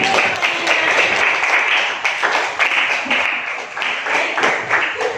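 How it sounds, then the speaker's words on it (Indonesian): A class of students applauds one classmate with brisk, fairly loud clapping from many hands in a small room, swelling and easing slightly over several seconds. "Tepuk tangan."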